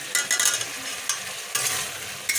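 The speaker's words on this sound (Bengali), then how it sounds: "আলুটা একটু কষায় নিই।" Potatoes being stirred and sautéed in hot oil with spices: a steady sizzle runs throughout. Spoon scrapes and stirring clatter sound close, repeating every half second or so, with no voices.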